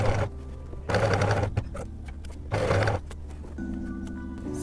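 Sewing machine top stitching a bias bound waistband, running in loud steady bursts that start and stop several times, with quieter hum and clicks between runs.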